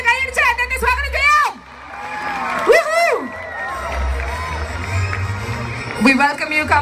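At the Isai Laila 2014 stage show, the audience cheers for Kamal Hassan as he arrives. A loud announcer's voice speaks over bursts of crowd noise, and a broad swell of cheering rises in the middle.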